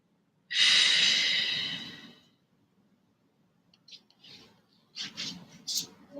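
A long, deep exhale during a yin yoga session, close and breathy, fading out over about two seconds, followed by quieter soft breaths and small rustles.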